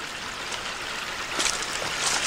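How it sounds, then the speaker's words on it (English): Steady rushing and trickling water pours out from under a big rock on a hiking trail, close by, a continuous splashing stream with brighter gurgles toward the end. "there's a ton of water pouring out from underneath it"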